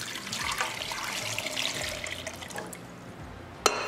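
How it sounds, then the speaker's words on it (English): Cold tap water runs into a bowl of raw pork chops to wash them, a close splashing and gurgling stream with small clinks, ending in a sharp knock. "So I'm going to run the water a couple times."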